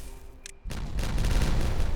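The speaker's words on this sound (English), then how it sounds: "Do the two little explosions first." Two small blasts go off in the building game Timberborn, a sudden booming burst followed by sustained rumbling, crackling noise that stays loud to the end.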